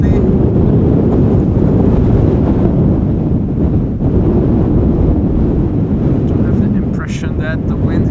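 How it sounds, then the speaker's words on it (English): Strong wind at Schiphol Airport buffets the microphone in a loud, constant low roar that barely lets up, with a faint tonal whine rising briefly near the end. "That the wind here is picking up even more."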